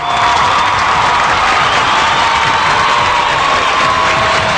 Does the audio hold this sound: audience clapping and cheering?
yes